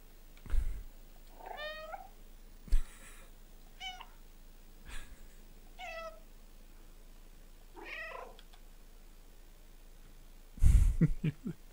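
A cat in the video game Stray lets out a handful of short, plaintive meows spaced a few seconds apart, with soft thumps and a louder bump near the end.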